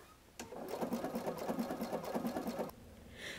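A sewing machine runs a blanket stitch around an appliqué leaf: one short, quiet burst of rapid rhythmic needle clatter lasting about two seconds, close by, with no talking.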